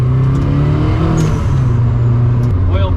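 A fully caged Mazda Miata race car driven on the street, its engine droning loud and close with a steady, slowly rising pitch under acceleration.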